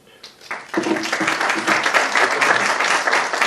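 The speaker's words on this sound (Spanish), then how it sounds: "Un aplauso para él" Audience applause greets a panelist at a Spanish-language debate on UFOs and AI, starting quietly and swelling quickly into steady, dense clapping that holds to the end.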